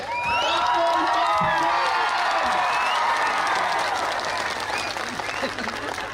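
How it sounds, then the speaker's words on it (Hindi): A large crowd applauds and cheers at a mass political gathering of Tipra Motha in Mandai, with dense, sustained clapping and scattered whoops and shouts, loud and continuous throughout. "अपने आप के लिए ताली दीजिए"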